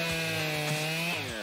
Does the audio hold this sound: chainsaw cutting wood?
yes